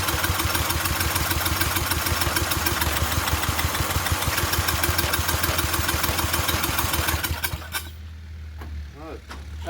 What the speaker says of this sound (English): Well, it chugs over, but it's not doing anything.